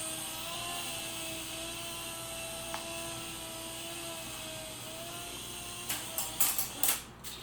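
Syma S107H and Sky Rover Vigilant toy RC helicopters whining steadily with rotor hum, then several sharp plastic knocks and bumps clustered near the end as they collide.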